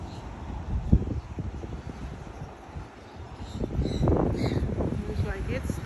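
Outdoor wind buffets the microphone in low rumbling gusts that swell toward the end, heard beneath a person talking.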